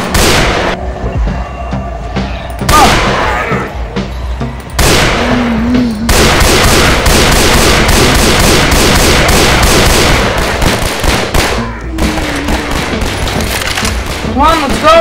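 Sustained gunfire in a Garry's Mod zombie apocalypse game set in New York City, with dense bursts of loud automatic shots and booms that come in waves, broken by short pauses, and excited voices calling out between them.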